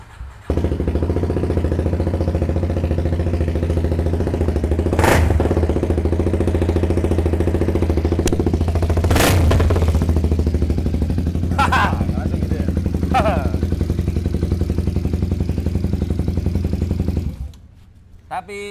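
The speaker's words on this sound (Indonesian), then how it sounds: "ini lebih gacor lagi satu silinder pakai knalpot racing" A single-cylinder motorcycle engine with a racing exhaust idles loudly and steadily with a deep, rumbling exhaust, close by, with a few revs and clatters before it cuts off near the end.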